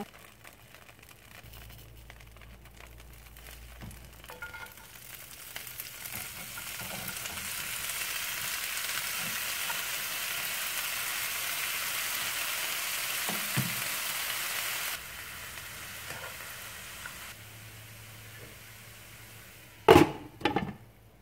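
Red Swiss chard fries in a pan with a steady sizzle that swells and holds, with occasional utensil taps and a sharp clatter near the end.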